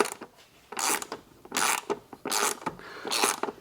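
A ratchet tightens Prinsu Pro roof rack screws on a 3rd-gen Toyota Tacoma, giving four short bursts of rapid clicking close up, separated by brief pauses.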